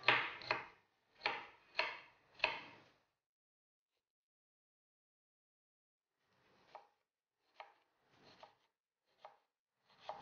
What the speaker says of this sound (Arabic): هنا البصل نقطعوه رقيق